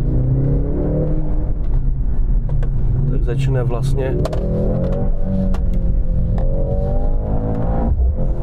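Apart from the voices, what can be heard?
Mercedes-AMG C63 hybrid four-cylinder engine revving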